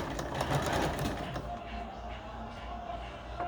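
A sewing machine runs steadily, stitching fabric for a bucket hat with a fast mechanical whir that stops partway, leaving a quieter hum and small clicks; close and alone with no talking.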